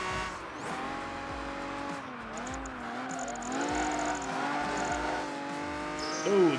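A car slides through a corner in Project Gotham Racing 3, its engine note dipping and rising in wavering pitch while tires scrub faintly under it, fairly close and without talk.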